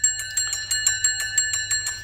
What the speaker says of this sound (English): It's a division bell, isn't it?